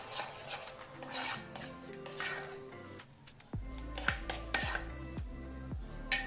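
Banana pakoda batter being mixed with jaggery powder in a bowl: steady scraping and rubbing of a spoon against the vessel, then a run of rhythmic clinks and taps, close and alone without talk.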